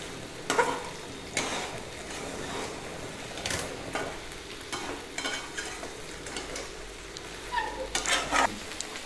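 Onion fries steadily in ghee while a spoon stirs it, with a soft continuous sizzle broken by repeated scraping, clicking strokes against the pan.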